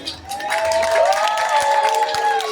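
A crowd claps and cheers steadily at a gay beauty pageant's national costume segment, with dense applause and whooping voices sustained throughout, fairly loud and close.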